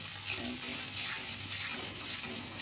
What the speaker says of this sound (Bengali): নারকেলের পেস্টটা আবার এর সঙ্গে আমি কষিয়ে নেব সুন্দরভাবে